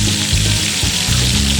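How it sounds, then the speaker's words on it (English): Beef in red wine being stirred in a pot over a campfire, a bubbling simmer with a few brief wet scrapes, close and loud, no talking. "Make sure we give this guy a bit of a stir."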